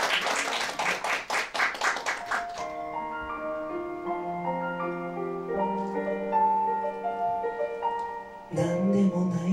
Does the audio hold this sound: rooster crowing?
no